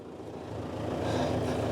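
A 19-year-old tractor engine idles with a steady low rumble that rises slightly toward the end, heard alone for a brief moment.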